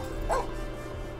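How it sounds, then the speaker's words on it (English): A single short dog bark from The Sims 4 video game pops out once over a steady hum of game music and ambience. "Doggy."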